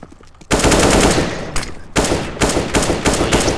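Rapid automatic AK rifle fire in Counter-Strike: Global Offensive, a loud sustained burst followed by several shorter bursts in close succession.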